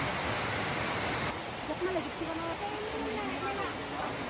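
Steady broadband rush of water at Solcoc Falls, a waterfall in the Philippines, fills the whole stretch at close range, with a faint voice and some bird-like tones above the roar.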